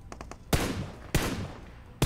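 Gunshots in an online shooter game, fired at bots during a chaotic spray: three sharp, loud bursts roughly half a second apart, each trailing into a decaying echo, with faint clicks before the first.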